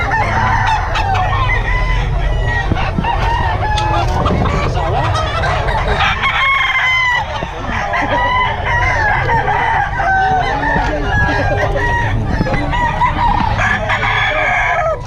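Several roosters crow loudly and continuously, their calls overlapping with clucking hens in a busy farmyard.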